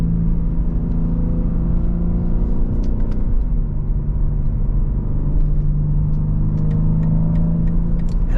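A BMW M3 fitted with a new exhaust accelerates with a deep, steady rumbling drone from inside the car, its engine note rising and holding over several seconds with no talking.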